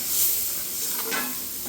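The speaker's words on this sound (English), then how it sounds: "Get this stirred in and worked in really good." Cooked brown flour being stirred into milk for gravy in a pan, giving a soft, close scraping and swishing with a faint sizzle. No voices are heard.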